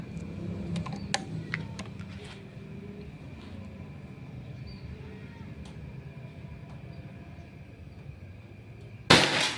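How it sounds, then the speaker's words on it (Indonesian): Quiet outdoor background with faint clicks, then a single sharp shot from a Predator Pajero Gun Gen 6 air rifle cracks near the end during an accuracy test. "Tembakan kedua."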